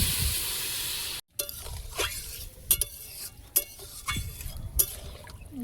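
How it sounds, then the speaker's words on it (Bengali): Cumin paste and water go into a hot pan: a burst of steamy hissing, a sudden hush, then bursts of sizzle, spoon clinks and stirring scrapes, all close and fairly quiet. "জিরে বাটা, জল দিয়ে দেবো।"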